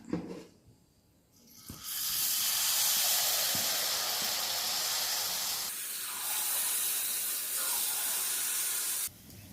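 Unniyappam batter made with nendran banana hitting hot coconut oil, bursting into a loud, steady, close sizzle that holds for several seconds before stopping abruptly.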